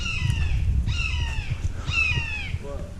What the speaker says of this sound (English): that was a red-tailed hawk